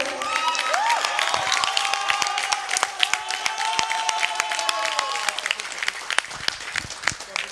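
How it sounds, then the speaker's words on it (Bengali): An audience claps loudly for a play's writer at the close of a Zefirino 2020 stage show, steady dense applause with sharp individual claps and a few voices carrying over it. "ময়ূকদার জন্য আবার একটা জোরে হাততালি।"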